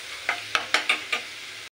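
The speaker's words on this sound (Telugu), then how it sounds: "ఇవి ఇలా ఫ్రై అయ్యేంతవరకు వేపుకుంటే సరిపోతుంది" Small chopped pieces of ridge gourd frying in a pan for chutney, with a soft continuous sizzle and five sharp scraping stir strokes in quick succession, close by, then an abrupt stop.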